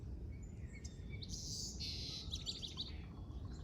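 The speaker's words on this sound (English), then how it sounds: "there's so many birds singing" Many birds sing and chirp together in a garden in late fall, a dense chorus of overlapping tweets and trills over a steady low background rumble.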